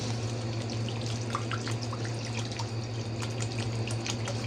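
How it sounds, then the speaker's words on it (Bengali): Broth water poured into a tilapia and tomato curry in a cooking pot: a steady, even rush of liquid with light splashing, close and unbroken, over a low hum. "এখন আমি এই যে ঝোল দিয়ে দিলাম"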